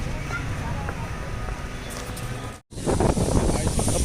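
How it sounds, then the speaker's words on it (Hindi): Steady wind buffeting the microphone beside Phewa Lake in Pokhara, Nepal, with a loud, continuous rumble, a brief dropout, and a stronger gust after it. "हवा चल रही है, मौसम अच्छा है।"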